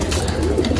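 Pigeons coo in a low, continuous murmur close by, a soft steady burble with no talk over it.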